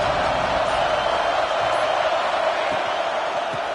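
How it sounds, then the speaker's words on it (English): College football stadium crowd roaring as a steady, broad wash of distant voices and cheering that sustains evenly throughout without standout shouts. "This crowd ready to make its presence known."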